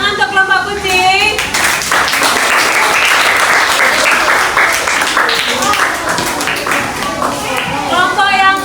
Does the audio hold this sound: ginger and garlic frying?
no